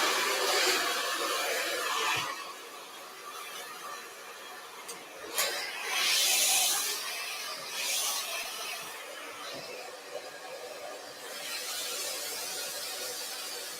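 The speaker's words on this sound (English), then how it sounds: "I'm working with the Vision dryer. I'm going to turn it all the way up to high" A Vision hair dryer set to high heat runs steadily through a salon blowout, giving a loud, continuous airy whoosh that shifts slightly in strength as it moves, with no talking.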